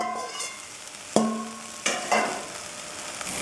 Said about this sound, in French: Je vais contrôler la cuisson de mes petits oignons.